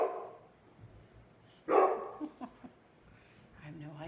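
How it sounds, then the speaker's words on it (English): Gracie the dog barking indoors, a single sharp loud bark followed by a few shorter yips, with quiet talk and household sounds around it. "It's Gracie barking."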